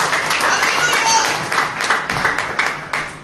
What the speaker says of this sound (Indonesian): Yang setuju berikan tepuk tangan buat Tuhan.